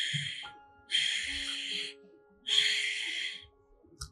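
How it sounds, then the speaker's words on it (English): Two long ujjayi exhalations pass through a constricted throat and out the nose, each a soft, hissing, snore-like breath heard close up. A short quiet pause separates them. "Creating this gentle snoring sound."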